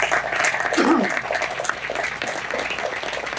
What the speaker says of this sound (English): I think we should really applaud Janet.